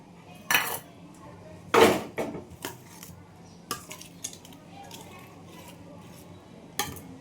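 Chole paneer curry is served from a pan into a dish in a home kitchen, with several sharp metallic clinks and scrapes of a utensil against cookware spaced irregularly between quiet pauses.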